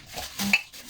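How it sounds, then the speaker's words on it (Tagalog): A fork whisks an egg in a bowl, a short burst of quick clinking strokes against the side, close and fairly quiet. "Magbati tayo ng egg."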